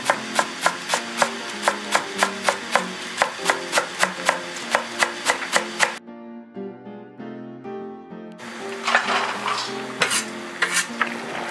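A knife chops garlic chives for kimchi dumplings on a board in a fast, steady run of crisp, close taps, then pauses before a busier stretch of kitchen clatter, with no talk.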